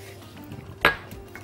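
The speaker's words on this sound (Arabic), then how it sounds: "هنحط كده البيض" Eggs are cracked and dropped into a bowl for peach cake batter. A single clear clink or tap sounds near the middle over a faint kitchen background.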